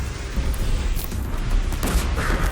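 A cannon in Horizon Zero Dawn fires a rapid, continuous string of heavy booming shots, close and loud throughout, with no talking.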